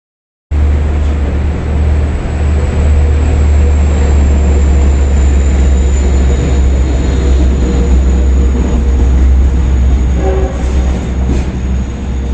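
A Long Island Railroad double-deck train rolls past loudly and continuously, a deep steady rumble with a thin high whine, and brief wheel squeals near the end.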